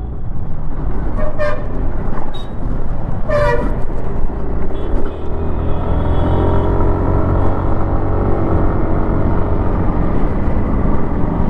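A 2024 Yamaha Aerox 155 Version S sports maxi scooter rides along in traffic, its engine drone and road rumble steady and close, with a couple of sharp horn toots from vehicles early on.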